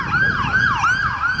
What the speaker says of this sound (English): You hear that ambulance behind me.